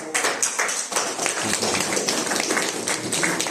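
Quick crackling applause from an audience greeting a compañera arriving at a talk on Indigenous leadership, dense and steady with scattered claps throughout.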